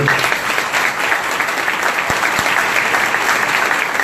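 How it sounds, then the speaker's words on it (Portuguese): Audience applause at a congress award ceremony honoring a runner-up paper, steady dense clapping from a large room that holds evenly for about four seconds with no talk. "uma salva de palmas para ele"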